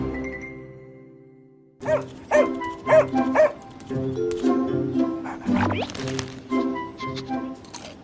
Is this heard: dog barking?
yes